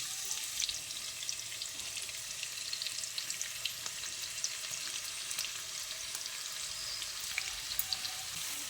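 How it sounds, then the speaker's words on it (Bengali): Thinly sliced onion, pressed flat by hand, fries steadily in hot oil for birista, a dense continuous sizzle with scattered pops and crackles holding at an even level throughout. "এবার আমি এই পেঁয়াজটা দিয়ে একটা বেরেস্তা বানিয়ে নিচ্ছি।"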